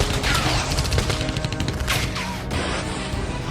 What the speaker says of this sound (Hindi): यह वीडियो वायुसेना दिवस के मौके पर फायरिंग का है। यह वीडियो एयरफोर्स के हेडक्वार्टर क्षेत्र के पास तैनात एयर डिफेंस सिस्टम का है।